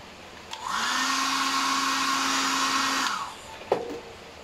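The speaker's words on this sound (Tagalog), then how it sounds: "Kaya ang ginagawa ko, pinapainit ko muna using a hair blower." A hair blower runs for about two and a half seconds with a steady whining roar while warming the stiff joints of a Spider-Man action figure, close and loud, then switches off before a short clack.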